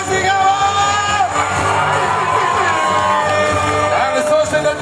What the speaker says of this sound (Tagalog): Marinig na palakpakan na may kasama sigawan!